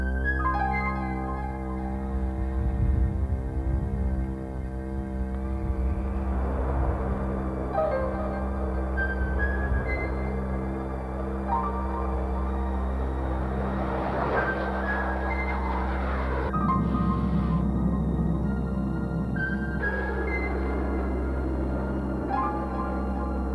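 Jet aircraft engines on a U.S. Air Force plane spooling up for takeoff, a loud continuous low drone with steady harmonic tones and rising roar swells throughout, heard from inside, no talking.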